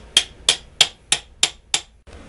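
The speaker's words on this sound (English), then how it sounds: "I gave it a few more taps with the hammer" Hammer tapping on a leftover piece of pipe to seat a boat lower unit seal: six evenly spaced sharp metallic taps about a third of a second apart, close and clear with no talk.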